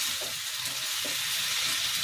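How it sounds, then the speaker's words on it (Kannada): A salted tomato chutney mixture fries in a pan, giving a steady close hissing sizzle with faint bubbling pops throughout and no voices. "ಒಂದು 5 ಮಿನಿಟ್ಸ್ ಇದನ್ನು ನೀಟಾಗಿ ಫ್ರೈ ಮಾಡ್ಕೊಳ್ಳೋಣ."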